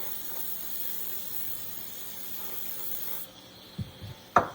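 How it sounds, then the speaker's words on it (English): A steady hiss of olive oil spray from a can runs for a few seconds, then stops, followed by a couple of soft knocks. "I'm going to spray it down with some olive oil."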